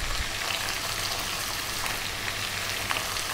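Green beans with garlic and thyme sizzle steadily in a pan, a continuous crackling fry held at an even level with no talking.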